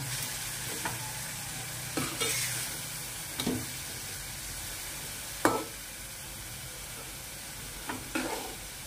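Masala of mixer-ground tomato sizzles gently in a pan while a spoon stirs and scrapes it, with about half a dozen distinct scraping strokes spaced a second or two apart.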